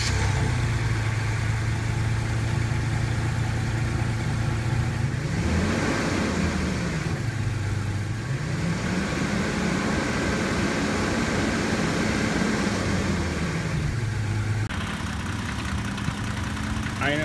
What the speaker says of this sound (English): I know people have said this is how the engine normally sounds